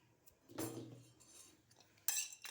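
Chickpeas are poured into a pan of hot salt for roasting, giving a short rattling clatter of dry grains against metal, followed by a sharper clink near the end; close and fairly quiet, with no speech.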